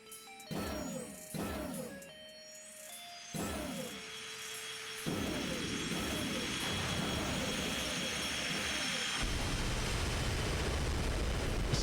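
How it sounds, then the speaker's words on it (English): Enemy bomber aircraft closing in during Armored Core II combat, a low rumbling drone that grows into a continuous loud roar after several sharp metallic blasts and clangs, with no voices. "Enemy bomber approaching."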